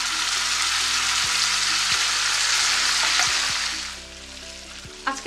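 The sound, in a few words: chickpeas frying with onions in a pan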